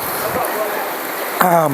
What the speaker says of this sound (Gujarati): અહીંયા જો આટલું પાણી છે આ ગતિમાં આવી રહ્યું છે